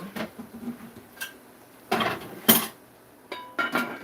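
Metal pot clinking as a spoon stirs inside, followed by sharp clanks of a lid being set back on, several separate knocks spread out in a quiet kitchen.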